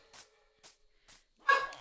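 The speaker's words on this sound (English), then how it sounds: "So I apologize for all the barking." Penny, a pet puppy, barks indoors: three short, sharp yips spaced evenly apart, then a louder, fuller bark to finish, close by with quiet gaps between.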